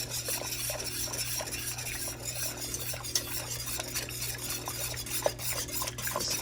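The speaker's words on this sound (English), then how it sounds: "Whisk it up." A sauce laced with Worcestershire is whisked in a pan, making a quiet continuous rhythmic scraping and swishing with faint clinks of the whisk against the metal.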